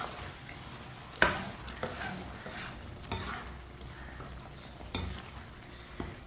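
White chickpeas with chaat masala and fresh coriander are stirred in a sizzling pan. A soft frying hiss runs underneath while a spoon scrapes and knocks against the pan in several distinct close strokes, with no talking.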